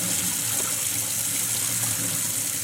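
Lentils rinsed under a running kitchen tap give a steady, close rush of water that stays even throughout, with no voices.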